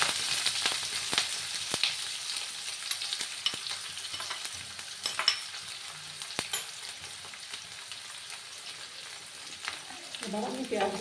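Chopped onions fry in hot oil in a pan with a soft, continuous sizzle, and scattered utensil stirring clicks come through up close.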